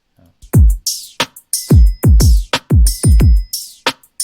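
A dry drum beat with deep booming kicks, sharp snare hits and ticking hi-hats in a steady pattern, loud and close.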